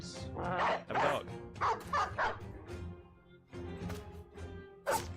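Dogs bark repeatedly in a survival video game, a run of sharp yelps and woofs with short pauses between them, loud and close, mixed with game sounds.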